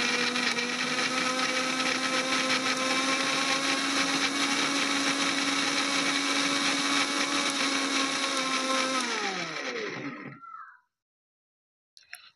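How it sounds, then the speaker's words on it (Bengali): An electric mixer grinder blends chopped beetroot pieces in its jar with a loud, steady whirring drone that runs for about ten seconds, then winds down and stops, leaving near silence. "এবার আমি একটা মিক্সির বাটিতে বিটগুলো দিয়ে দেব।"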